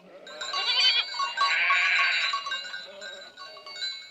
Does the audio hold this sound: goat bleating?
yes